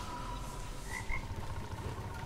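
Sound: frog croak from Rek'Sai Pool Party recall, League of Legends video game

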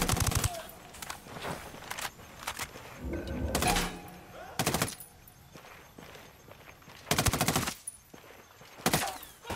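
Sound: gunfire in a PC shooter video game

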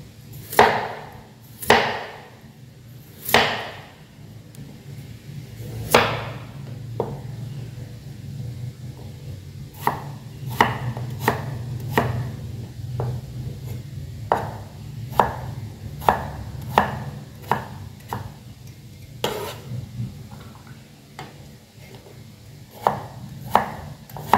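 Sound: knife chopping potatoes into small cubes

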